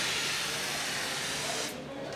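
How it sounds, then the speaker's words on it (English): A steady, close hiss of spray adhesive blasting from a nozzle for about two seconds, cutting off abruptly near the end. "then you're going to spray both sides"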